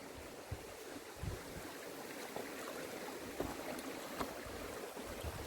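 Water rushes and burbles steadily in a small mountain creek, a soft continuous flow with occasional faint splashes and knocks.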